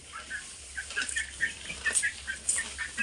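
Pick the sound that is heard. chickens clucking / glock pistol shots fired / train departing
chickens clucking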